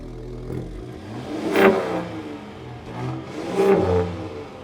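A 2021 Ford Raptor exhaust in quiet mode revs twice close by, each rise a short throaty blip over a low idle rumble, with no talking.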